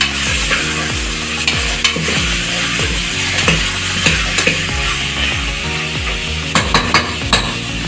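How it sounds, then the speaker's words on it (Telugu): Mutton pieces stirred as they fry in hot oil for a Hyderabadi mutton curry, with a steady loud sizzle and repeated scraping strokes of a spoon against the pan, close and without talk. "మటన్ వేసుకొని నూనెలో మగ్గియాలండి."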